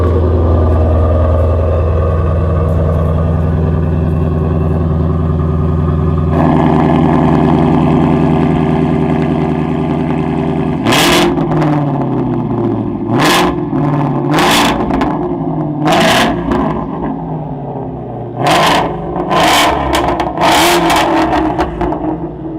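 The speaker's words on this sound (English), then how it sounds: "I'm just going to switch it on and give it a few revs" Ford Mustang GT350 V8 engine idling, then several sharp revs, each a loud surge rising and falling, with short bursts spaced unevenly near the end, close and unaccompanied by talk.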